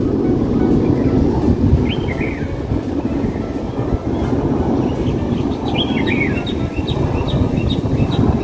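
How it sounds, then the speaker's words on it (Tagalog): Small birds chirp and sing in short, scattered bursts outdoors on an island near apartment buildings. A steady low rumble of background noise sits under them, and the calls are clearest toward the end. "Naririnig yun yung mga huni ng ibon."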